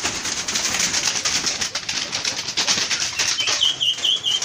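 Fantail pigeons in a breeder's loft: soft wing flaps and rustling with light cooing and a few chirps, fairly faint and close.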